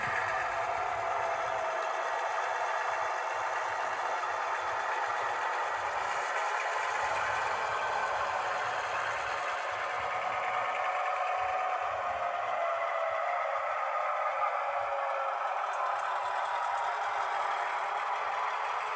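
Model train locomotives rolling along layout track toward the shop, a steady low mechanical hum and whir with faint rattling clicks, continuous and close, no voices.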